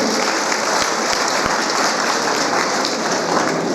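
Loud, dense applause from the audience at a college annual function and prize-giving ceremony, a continuous rain-like wash of many hands clapping close by, with no pause.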